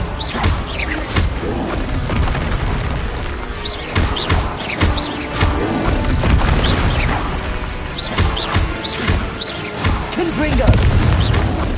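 Blasting-spell explosions in Hogwarts Legacy burst again and again in quick succession, loud booms and crashes overlapping, while a voice calls out in the gaps throughout the clip.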